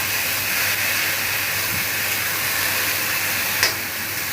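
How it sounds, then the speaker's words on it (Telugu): Oil frying in a pan with tomatoes, cumin seeds and shallots: a loud, continuous hiss and sizzle that holds steady throughout, with one brief clink near the end. "ఇలా నూనెలో ఫ్రై చేసుకోవాలి."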